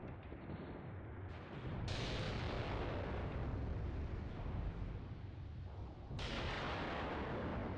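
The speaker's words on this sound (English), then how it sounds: "these Katyushas, they're relentless, you know. The Soviet rocket artillery" Katyusha rocket artillery firing in the Mius Front WW2 video game, a continuous rumbling roar of rocket salvos and distant explosions, broad and heavy throughout.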